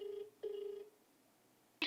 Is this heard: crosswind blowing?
no